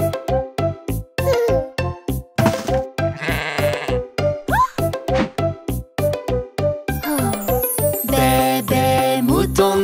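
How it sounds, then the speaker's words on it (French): A cartoon black sheep bleats in rhythm through a French children's song, a rapid run of loud, evenly spaced bleats with tinkling and jingling accents toward the end. "Bébé mouton noir, as-tu de la laine?"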